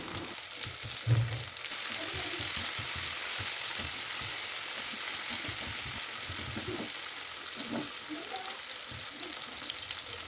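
Duck meat frying in a pan with salt and chopped tomato added, a steady close sizzle throughout with a brief clatter near the start and occasional stirring scrapes.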